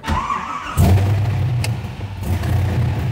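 A widebody Porsche 911 engine, badly out of tune, cranks and catches, then settles into a loud, rough idle with a brief rev, close up.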